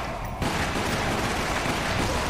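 Dense, continuous gunfire from the video game Resident Evil: The Umbrella Chronicles, a loud unbroken burst of shots that starts after a brief lead-in and fills the whole stretch with no voices over it.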